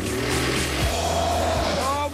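A Mercedes-Benz G 63 AMG 6x6 with a 5.5-litre 536-horsepower twin-turbo V8 drives along with a steady, loud engine drone, and someone talks over it.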